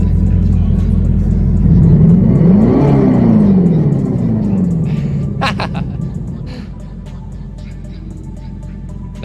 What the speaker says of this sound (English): Nice fake revving sounds